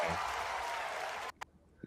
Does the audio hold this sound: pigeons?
no